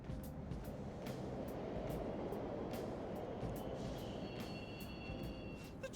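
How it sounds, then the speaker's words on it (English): Subway trains rumble steadily through a station in Persona 5 Royal, a low continuous roar with faint rail clicks and a thin high whine rising near the end. "The trains are totally running."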